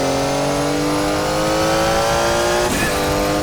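A Porsche 956 Group C race car at speed in an onboard lap, its engine holding a loud, sustained high drone that sweeps upward, then shifts gear with a sharp break near the end, with VHS-quality tape sound.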